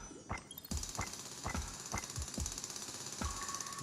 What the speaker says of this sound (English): he's drilling, he's drilling